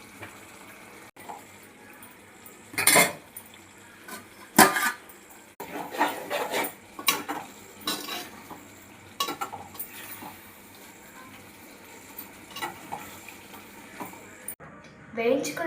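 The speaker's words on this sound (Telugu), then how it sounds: "వెల్లుల్లి, చింతపండు, కరివేపాకు, కొత్తిమీర వీటన్నిటిని వేగించుకుందాం." Garlic, tamarind, curry leaves and coriander frying in a pan, with a steady low sizzle and repeated scraping stirs and sharp utensil knocks against the pan; faint voices are present.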